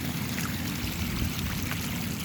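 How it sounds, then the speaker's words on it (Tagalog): A strong spring gushes out of the ground, a continuous rushing, burbling flow of water that stays steady and fairly faint throughout, with no voices over it. "malakas ng agos ng tubig."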